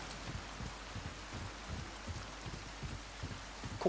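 Heavy rain in the Resident Evil 4 remake hisses steadily and softly as a continuous wash of drops, faint and even with no voices.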